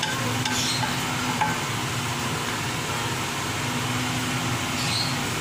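Ground keema with salt fries in a pan and is stirred, giving a steady, close sizzle with soft scraping throughout and no talking.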